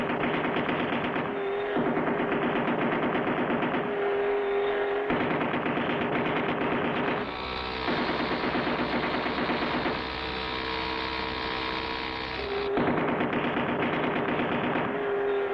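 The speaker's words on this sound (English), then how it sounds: "Hey, boss, we just fired our last round of ammunition, and they're still coming." Sustained cartoon machine gun fire from an action animation, a loud, dense, continuous rattling barrage lasting over fifteen seconds with slight shifts in tone and intensity, no voices over it.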